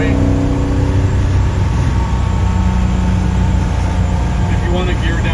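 Cabin of a 1955 Mercedes-Benz 300SL Gullwing cruising on the freeway at 3,300 RPM, with a loud, steady low engine drone throughout and someone talking over it.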